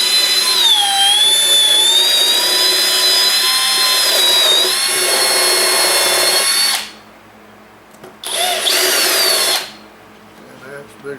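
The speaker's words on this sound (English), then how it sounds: "I'm going right in the center of the hole in the plastic. And I'm making a hole in the tube." A power drill boring a hole through plastic into a tube gives a loud, high whine for several seconds. It stops, then runs again in a shorter second burst.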